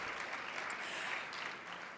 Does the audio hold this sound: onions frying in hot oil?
no